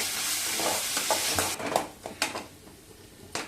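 Ginger, garlic and spices fry for ragi semiya upma in a pan with a close hissing sizzle, punctuated by several sharp spatula scrapes and taps against the metal, with no voices.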